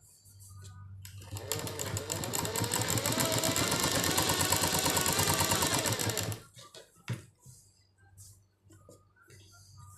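A sewing machine stitches a kachhera garment in a loud, steady run of rapid needle strokes lasting several seconds. It then stops abruptly, followed by faint scattered handling noises.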